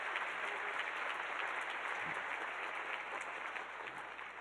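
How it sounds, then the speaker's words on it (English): Audience applause at a breakfast event held by a civil liberties organization, steady broadband clapping from a crowd filling the whole clip at moderate level. "I think that's worth applause."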